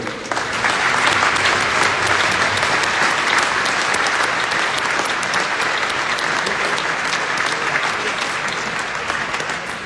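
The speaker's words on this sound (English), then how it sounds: "A round of applause for you too." A large audience claps at the WorldSkills Competition 2022 closing ceremony in Bolzano, South Tyrol, Italy, loud sustained applause that swells at the start and holds steady for about ten seconds.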